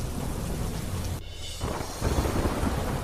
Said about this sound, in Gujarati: લાંબા વિરામ બાદ ધોધમાર વરસાદ